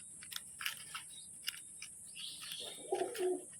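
Quiet surroundings with faint chirps, then a low Madras pigeon coo swells near the end, close by.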